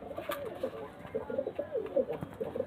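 A male pigeon cooing close by in a loft, a quick run of soft throaty coos repeating in a steady pulsing rhythm, with a faint voice in the background.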